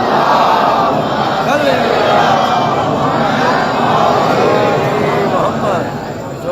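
A large crowd of worshippers at a religious gathering recites salawat together loudly, a dense continuous wall of massed voices that holds steady before dipping slightly at the end.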